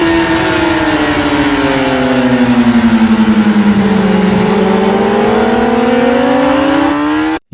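A racing motorcycle on the Cremona circuit accelerates hard, its loud close engine note rising and falling steadily as the rider opens the throttle, then cutting off abruptly at the end.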